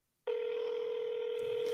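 A telephone line tone sounds while calling a Subway sandwich store: silence, then a sudden steady electronic tone holds on, loud and clear, with a faint rustle near the end and no talking.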